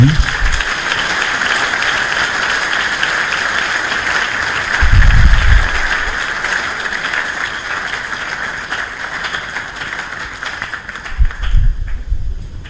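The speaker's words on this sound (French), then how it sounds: "Si vos applaudissements peuvent faire chaud au cœur à mon ami Deo Mouchaïdi" Steady applause from a university lecture-hall audience in Kinshasa at a book presentation, a broad even wash of clapping that swells briefly midway and again near the end.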